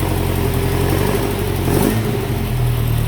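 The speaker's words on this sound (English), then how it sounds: "Oh, listen to them quad throttles." A restored 1965 Ford GT Cortina with a 20-valve blacktop engine and quad throttle trumpets runs loud and close, a steady, dense engine roar that holds without pause for about three seconds.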